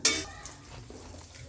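Mixed vegetables tipped into a hot pan with black cumin seeds, giving a loud initial sizzle that settles into a softer, steady frying hiss.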